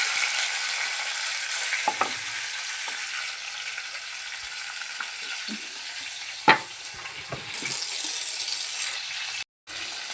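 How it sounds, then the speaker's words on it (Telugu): Green chillies fry in hot oil in a home kitchen pan, a steady close sizzle with occasional clicks and stirring scrapes, no one talking. "పచ్చిమిరపకాయలు వేగినాయి"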